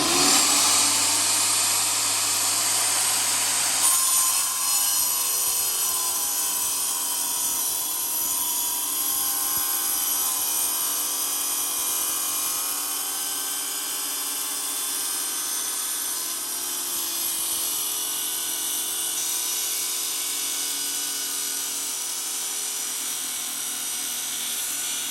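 A power saw cuts steadily through rock, producing a loud, continuous high-pitched grinding whine that holds for the whole stretch, with only a slight shift in tone partway through and no talking.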